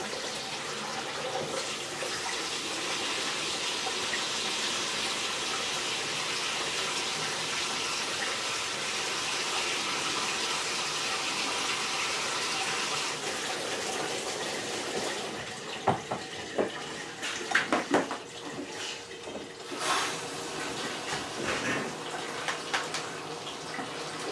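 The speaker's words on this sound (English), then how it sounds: "Let the water run for a second, get it cool." Steady rushing of water from a tap for most of the stretch, then it stops and a few clunks and handling sounds follow.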